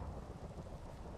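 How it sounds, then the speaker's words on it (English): A thunderstorm with rain in the Minecraft video game, a low, faint, steady roar of downpour with rumbling thunder beneath, continuous and without voices. "God, this storm's noisy."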